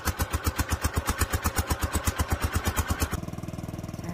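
Gasoline engine of a wood chipper used for shredding pruned peach tree branches, running after a hard pull start: a loud, near, pulsing chug at a steady rhythm that shifts to a faster, smoother idle near the end.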